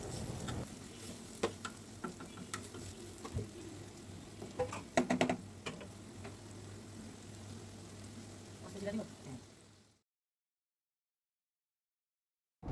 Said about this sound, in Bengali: পেঁয়াজটা খুব ভালো করে ভেজে নেব